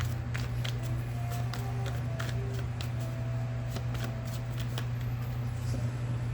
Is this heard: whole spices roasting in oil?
no